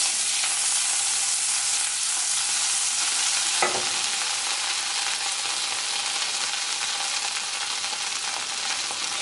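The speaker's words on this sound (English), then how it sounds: "So let's start cooking our mushroom. I'm going to add some of my vegan butter." Mushrooms frying in vegan butter in a pan, giving a steady close sizzle with a single brief clatter of stirring partway through.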